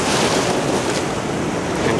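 Ocean waves break on rocks in a continuous, loud roaring wash of surf with gusty wind noise on the microphone and no voices.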